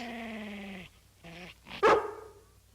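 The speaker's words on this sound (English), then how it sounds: "Show them how you growled at us, Lassie." Lassie the dog voices a few close, clear bursts: one long sustained call, a shorter one, then a sharper, louder outburst that trails off, with no one talking.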